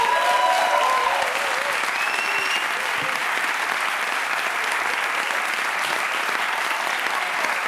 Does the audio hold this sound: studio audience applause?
yes